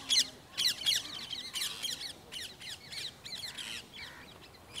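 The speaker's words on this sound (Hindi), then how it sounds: "छत पे हूँ इसलिए चिड़ियों की आवाज़ काफ़ी आ रही होगी" Small birds chirp on a rooftop in quick, bright bursts of repeated high calls, fairly close and clear, with a soft background murmur underneath and no talking.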